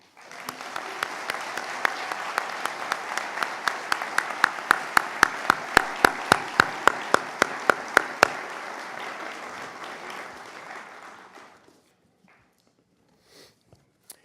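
An audience at the McNally Smith College of Music fall commencement breaks into sustained applause for the faculty, a dense wash of clapping with a few loud close claps, holding steady before fading out near the end.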